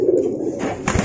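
Equinox, a pigeon kept alongside its sibling Toscana, gives a close, loud courting coo (giring), a throaty rolling call followed by a brief rustle.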